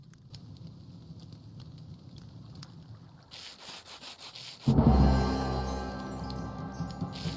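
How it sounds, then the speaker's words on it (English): Sandpaper rubbing in a video game: soft scratchy rasping strokes, then a louder, denser rush of sanding noise swells midway and slowly fades. "Wait, how do you use sandpaper?"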